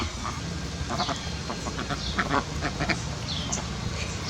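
Ducks quack and chatter in short, scattered bursts around mud on a small farm, over a steady outdoor background, close by and fairly loud.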